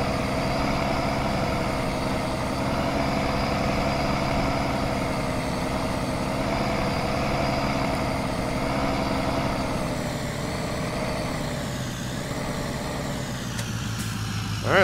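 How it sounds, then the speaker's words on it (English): A loud service truck engine idles steadily in Farming Simulator 19, a droning low rumble with constant harmonic tones that holds alone for most of the stretch before a brief change at the very end. "This truck is kind of loud"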